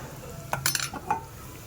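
A spoon stirs a red chili tempering in a pan, giving a quick cluster of metallic scrapes and clinks, then one more clink, over a faint background hiss.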